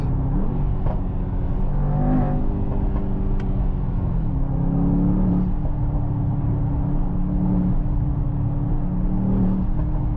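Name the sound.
Mercedes-AMG GT 63 S E Performance turbo blow-off noise off throttle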